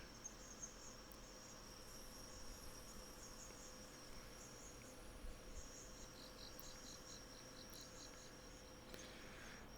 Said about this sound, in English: I can hear all the crickets.